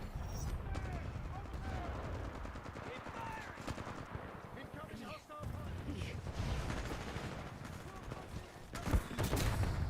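Rapid automatic gunfire from the smart pistol in Titanfall 2 on PC, dense and continuous throughout with bursts of in-game shooting and effects, with a sharp loud crack near the end.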